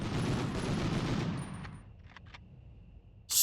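Dense sustained automatic gunfire in the Medal of Honor video game, a loud continuous rattle that cuts off partway, leaving faint crackles before another sharp burst at the end.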